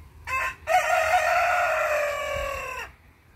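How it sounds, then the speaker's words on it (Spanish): A rooster crows once nearby among backyard garden chickens, a short call followed by a long drawn-out note, alone over a quiet background. "Miren, allá andan las gallinas."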